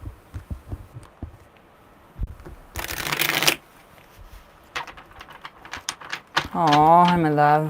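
A quick burst of tarot cards being shuffled, crisp and close, between soft thumps and handling noises, followed by a short voice at the end.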